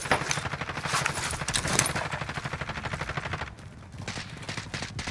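Rapid automatic gunfire from the video game Call of Duty Warzone rattles in dense, steady bursts for several seconds before easing into quieter, sparser shots.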